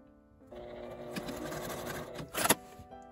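A sewing machine basts a cord folded in half onto fabric for a handled food-storage bag, running in a steady whirring burst of stitches from about half a second in, with a louder rattle near the end.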